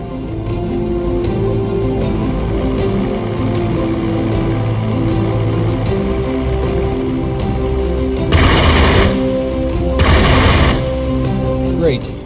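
Fighter plane guns firing during an attack in the Strategic Mind Blitzkrieg strategy game: two loud broadband bursts of rapid gunfire over a steady droning game soundscape with music.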